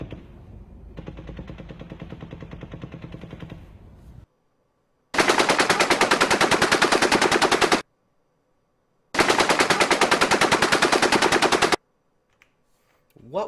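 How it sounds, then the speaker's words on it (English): An M240 belt-fed machine gun fires during the Route 91 festival shooting in Las Vegas: two loud, sustained automatic bursts of several seconds each, separated by silence, after a quieter stretch of rapid fire. "What we were looking at was an M240 belt-fed machine gun"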